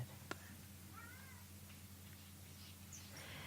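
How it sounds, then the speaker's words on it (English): A cat meows faintly a few times against a low steady hum, distant and soft, with a single sharp tick near the start. "It's a cat again."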